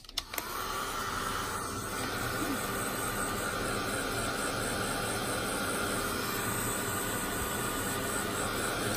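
A heat gun blows continuously for heat embossing in scrapbooking, starting with a few clicks and then holding a loud, steady, broadband whooshing hiss for the whole stretch.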